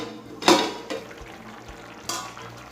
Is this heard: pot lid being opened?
yes